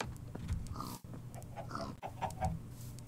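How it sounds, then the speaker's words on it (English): Several pigs in the Minecraft video game grunt and snort in short, irregular bursts close by over a low ambient background, with no voices. "There's some pigs here."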